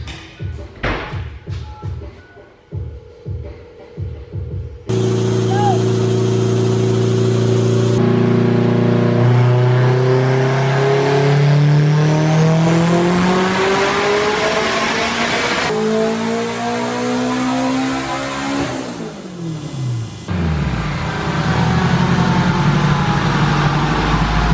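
Turbocharged K-swap all-wheel-drive car on a dyno, opening with a few thuds before the engine roars through long rising pulls, loud and close, its pitch climbing steadily with abrupt cuts between runs.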